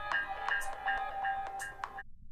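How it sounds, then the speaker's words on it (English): Phone ringtone playing over dialogue, a bright repeating melodic chime of short tonal notes in a quick regular pattern sitting above a voice, cutting off abruptly near the end. "This is dialogue with ringtone 9."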